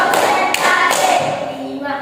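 A few sharp hand claps ring out in a steady rhythm during a classroom coaching session, with voices talking and chanting over them.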